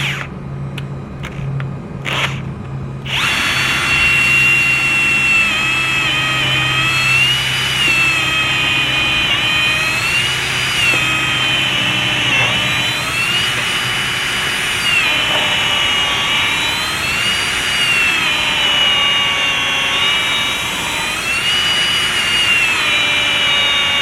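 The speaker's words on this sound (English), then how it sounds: "So we'll take a drill and drill a starter hole." A power drill bores a starter hole in wood for a chicken nest box, its steady whine running loud and continuous for about twenty seconds after a few short clicks.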